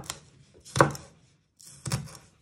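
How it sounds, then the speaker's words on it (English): Two crisp knife chops on a cutting board as spring onions are sliced into small pieces, spaced about a second apart, close and clear with quiet between. "you just want to first start slicing them into little pieces"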